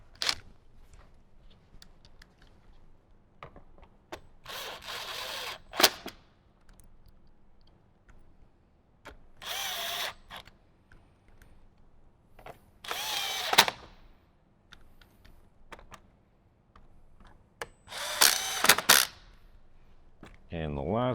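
A power drill drives screws into the side panel of a 2018–2023 Jeep JL during a speaker installation. It comes as about four short, sharp whirring bursts spread apart, with quiet handling noises between them.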